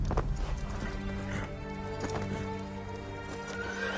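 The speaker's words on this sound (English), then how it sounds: "We've got our horse companion." A horse companion in the samurai video game Ghost of Tsushima, with steady clip-clop hooves and a whinny close up over a dense game soundtrack.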